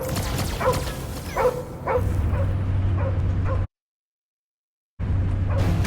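A dog barking and whimpering in the video game Guardians of the Galaxy: a quick run of short yips and whimpers over a low hum, a sudden total silence, then the hum returns.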